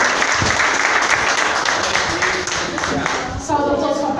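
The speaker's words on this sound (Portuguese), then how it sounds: "Vamos receber ela com uma salva de palmas." Congregation applauding in church during a family worship service, steady dense clapping throughout with a voice briefly audible near the end.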